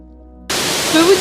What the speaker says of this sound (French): Je suis en plein dans la cascade, en dessous, c'est trop bien.